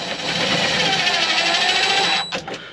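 A power drill whirs steadily while driving a screw into a car speaker mount in a 1987 4K, a continuous high motor whine that stops abruptly near the end.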